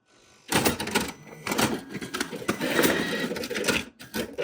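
A Formax FD6102 FPi-600 tabletop folder inserter runs up close, folding scrap paper and stuffing it into old envelopes with a dense, busy mechanical clatter of rapid clicks and rattles that starts abruptly and continues steadily.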